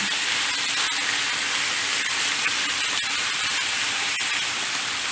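Chicken stir fry in sesame ginger sauce sizzles loudly and steadily in a pan, a dense unbroken hiss with faint scraping ticks from stirring throughout.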